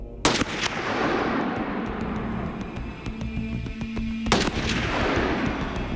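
A rifle fires two loud, sharp shots during polar bear defence shooting practice on an Arctic expedition, one near the start and another about four seconds later. Each crack rings out with a long, echoing decay over a steady outdoor rumble.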